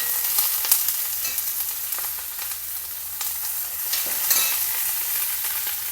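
Sliced onions fry steadily in hot oil in a pan for chicken biryani, a continuous close sizzle with occasional scraping stirs and crackling bursts, no voices.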